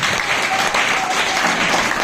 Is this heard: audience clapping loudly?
yes